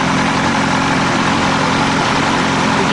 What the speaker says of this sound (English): Hayabusa motorcycle engine, which has then been turbocharged,